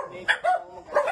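Thin, neglected dogs bark in a pound facility in Cavite, three short sharp yips in quick succession at moderate distance, mixed with voices.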